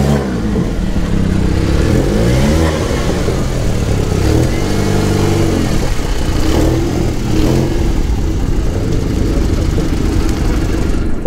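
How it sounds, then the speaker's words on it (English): A Subaru car's engine revs loudly and steadily up close, with a dense, continuous roar that rises and falls through repeated revving cycles. "What's it, a Subaru?"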